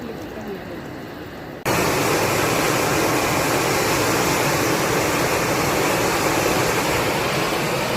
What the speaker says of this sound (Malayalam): മുട്ട ഇങ്ങനെ കിടന്ന് തിളക്കുന്നുണ്ട്.